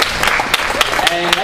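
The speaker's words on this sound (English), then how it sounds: "So everybody give him another round of applause." Applause from an open-mic audience at BGSU, a short burst of clapping with a few louder individual claps and some voices mixed in.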